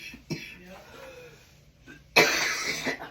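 A person coughs in a sudden loud burst near the end, after quieter rustling and a short throat-clearing-like sound earlier, close and indoors.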